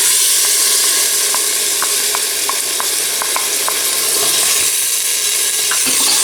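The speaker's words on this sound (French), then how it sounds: "Et je fais revenir ma viande." Beef browning in a pan for a lentil, beef and carrot tajine gives a steady, loud sizzle and fry hiss throughout, with a few soft clicks of stirring on top and no one speaking.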